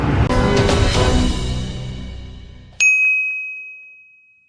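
A bright single bell ding for a subscribe bell button rings out sharply after a burst of busy sound and leaves a long, clear tone that slowly fades alone.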